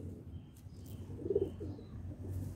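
A pigeon gives a single soft, low coo near the middle, faint against a quiet indoor background.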